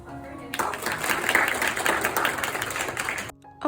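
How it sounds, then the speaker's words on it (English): An audience at a ballet intensive applauds a guest teacher, a dense burst of clapping that swells and holds for nearly three seconds before cutting off, with some voices mixed in. "let's clap for him"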